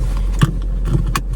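Car keys jangle briefly in a couple of small metallic clusters, close by, with no voices.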